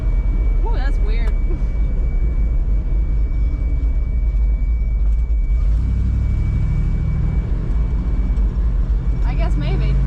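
A farm truck driving along, its engine a loud steady low rumble throughout, with people talking inside the cab over the drone.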